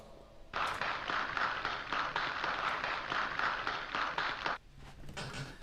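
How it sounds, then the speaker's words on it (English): A small group claps for a new moderator, a steady spread of hand claps lasting about four seconds before fading out, fairly close and moderately loud with no talk over it. "Let's give him a little round of applause."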